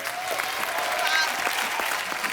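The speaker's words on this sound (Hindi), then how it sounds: "एक बार बच्चा के लिए जोरदार तालियां" A studio audience applauds on The Kapil Sharma Show, an Indian TV comedy show, with steady, dense clapping that holds at an even level throughout, close and full.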